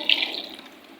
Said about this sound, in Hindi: तो हस्बे ज़रूरत आप पानी शामिल करें जितना आपने शोरबा बनाना है।